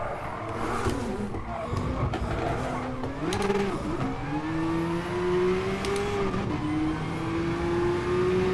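Group C race car engine in Gran Turismo holding a steady, droning tone that climbs and shifts pitch through the gears, loud and continuous with brief tire noise, no voices.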